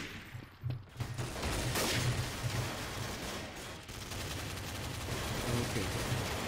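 Sustained gunfire in Counter-Strike: Source, bursts of automatic shots packed closely together after a quieter start, loud and near, with faint game sounds in the background.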